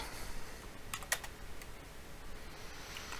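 Keys tap on a computer keyboard while entering text in the GIMP image editor; a quick cluster of crisp clicks stands out over a quiet, hissy room.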